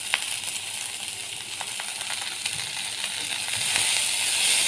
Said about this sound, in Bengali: নেড়ে চেড়ে ভেজে নেব পেঁয়াজটা।